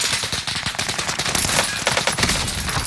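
Rapid automatic gunfire in a first-person shooter game, a loud, close, continuous burst of overlapping shots with no pauses and no talking.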